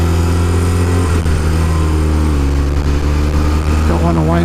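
A fully restored 1971 BMW R60/5 motorcycle engine runs steadily and close by, a loud, even drone with a slight rise in pitch near the end, held back from revving hard while freshly rebuilt.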